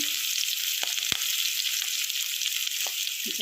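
Onions and green chillies frying in oil for an egg curry, a steady close hiss of sizzling with a few soft clicks of a utensil and no talking.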